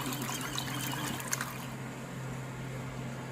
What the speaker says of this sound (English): it spins the clothing actually pretty well